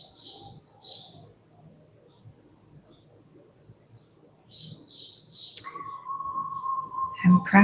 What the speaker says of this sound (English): As you listen to the birds while you're sitting at the side